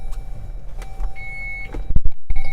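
The engine of a 2018 Chrysler Pacifica starts by push button inside the cabin, with a steady low hum and a faint chime tone, then a few quick clicks and thumps as it comes to life.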